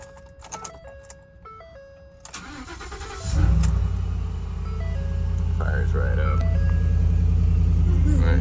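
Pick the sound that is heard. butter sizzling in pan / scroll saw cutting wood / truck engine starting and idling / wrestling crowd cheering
truck engine starting and idling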